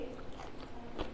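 Biting into crispy air-fried masala kurkure bhindi, okra fried in an air fryer, giving a single close crunchy bite over a soft chewing background.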